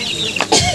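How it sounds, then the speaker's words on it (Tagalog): A short burst of chicken clucking, close and fairly loud, with a brief squawk-like call at the end over a steady background. "Sa manok pa. May manok na."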